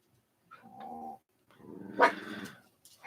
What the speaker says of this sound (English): we'll see if we can contain the puppy dogs